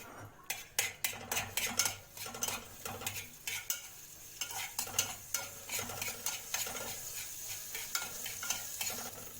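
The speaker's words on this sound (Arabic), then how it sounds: "انا كده بشوح التومه شوحه كويس" Garlic sautéing in a little oil in a pan for an Egyptian koshari sauce, stirred briskly with a utensil that clinks and scrapes repeatedly against the metal over a steady close sizzle, with no talking.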